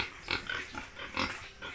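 Pigs in a simple farm pen give short, close grunts and oinks in quick, irregular succession at moderate loudness, with no talk.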